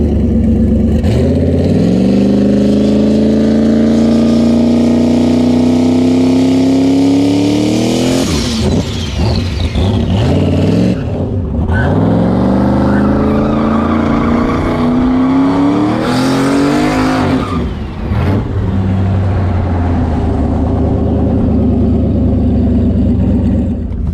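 A Tesla Plaid and an 88mm turbo LTD wagon launch at a drag strip: loud engine roars climb in pitch through gear pulls, repeating twice in quick succession and dominating the scene.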